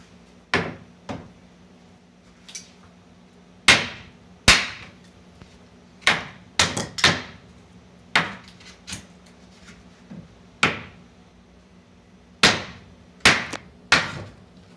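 Hammer blows knocking out a trailer wall during demolition: a dozen or so sharp, loud, irregular impacts with crisp cracks, some in quick double strikes, over a low steady hum.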